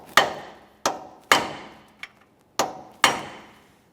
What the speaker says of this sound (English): I'm just using a hammer and punch. We'll give this a couple taps.